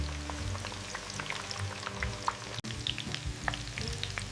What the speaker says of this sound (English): Hear that beautiful sizzle.